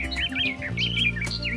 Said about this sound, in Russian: Летучих птичек очень много в нашем участке. Это щеглы, зяблики.